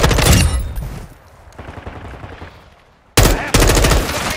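Gunfire in Call of Duty Modern Warfare II during a full multiplayer match, with loud close shots at the start, a fading rumble, then two sharp bursts near the end and a faint voice underneath.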